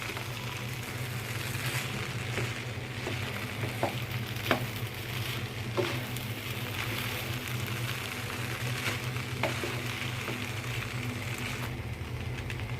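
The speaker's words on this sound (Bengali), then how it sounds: "এখন ডিমটা দেওয়ার পরে ভালো করে আমি নেড়ে চেড়ে নিব।" Fried rice with pre-fried eggs being stirred in a pan, a steady low sizzle with sporadic scraping clicks of the spatula, fairly close, with a continuous low hum beneath and no talking.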